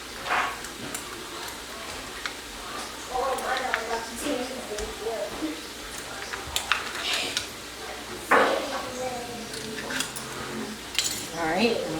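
Curry sauce and seasoning are stirred in a pan with intermittent scraping and clinking of a utensil, heard under ongoing talk.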